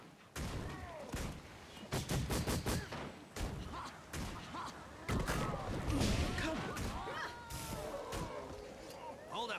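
Rifle fire in the Guild Wars 2 video game, a series of sharp cracking shots in quick bursts through the first half, set against dense game effects, music and voices.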